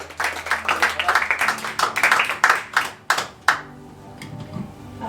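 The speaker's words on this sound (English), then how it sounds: "Applause up." An audience at a live comedy show applauds, with rapid, close clapping from a small crowd that thins into a few last claps, then a quiet voice is heard.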